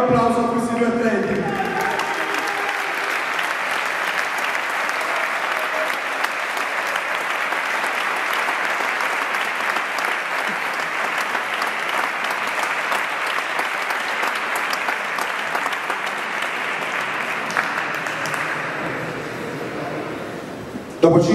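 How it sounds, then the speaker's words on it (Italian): Applause fills a boxing arena for two fighters after a five-round WBC Mediterranean Championship bout, a sustained dense clapping from the crowd lasting about twenty seconds, with an announcer's voice heard briefly at the start. "Signori, ancora un applauso a questi due atleti."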